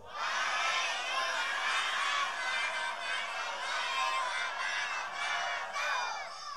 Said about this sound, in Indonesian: Ibu-ibu na luar biasa sorakna